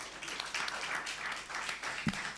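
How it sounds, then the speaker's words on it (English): Audience applause at a Falling Walls Lab pitch event in Accra, Ghana, greeting a presenter who spoke on menopause, a steady wash of hand claps from a crowd lasting a couple of seconds, fairly faint in the room. "Please, a round of applause for her."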